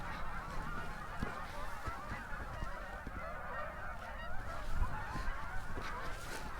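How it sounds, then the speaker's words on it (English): Geese honk in a dense, continuous flock chorus as they take off from a lake at Billy Clapp Lake near Pinto Dam, loud and sustained with wing and splash noise throughout. "where all those geese took off"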